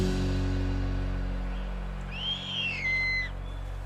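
An owl in the African wild gives a single drawn-out whistling hoot that rises and falls, clear above a steady low drone.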